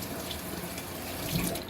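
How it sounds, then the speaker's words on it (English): A kitchen tap runs water into a sink for washing greens, a steady close stream that swells slightly near the end, no voices. "Add some water."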